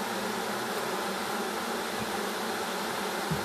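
A steady, dense buzz of thousands of honey bees humming together in a hive, close and continuous with no speech.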